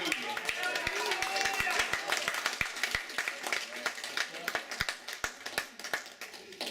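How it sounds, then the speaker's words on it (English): Scattered hand claps ring out from a church congregation during a sermon, sharp and uneven in rhythm, with voices murmuring underneath and fading to sparser claps toward the end. "you ought to clap your hands and give God a hallelujah"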